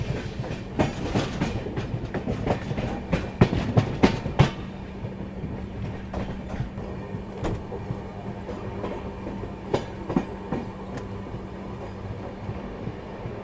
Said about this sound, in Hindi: सामने कोई तो गाड़ी डिपार्चर भी ले रही है